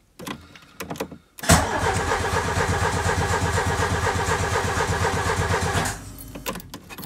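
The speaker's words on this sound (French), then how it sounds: "Donc là on entend la pompe." A car with a Solex 32 IDS carburetor cranks and fires up after a short fuel pump whir, then runs steadily at a mid-pitched idle for several seconds before cutting off, close by with no talk.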